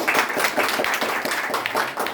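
An audience at a toppers' award ceremony gives a short, loud burst of rhythmic clapping that lasts about two seconds.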